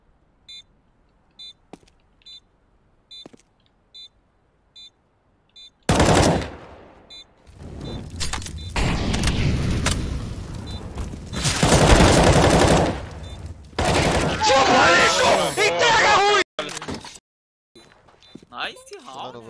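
Gunfire in a Counter-Strike match, with bursts of automatic fire and single shots after a quiet stretch of faint beeps, loud and dense through the middle and end, while people talk over it excitedly.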